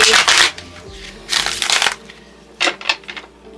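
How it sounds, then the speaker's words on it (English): Three bursts of card shuffling, each a rapid riffling flutter lasting about half a second, close and fairly loud with quiet pauses between. "let's go ahead and shuffle the cards"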